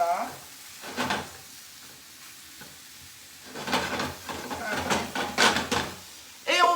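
Mushrooms frying in a pan are stirred with a double-ended spatula, giving a sizzle with scraping bursts near 1 second and again from about 3.5 to 6 seconds, close and moderately loud, with no talk.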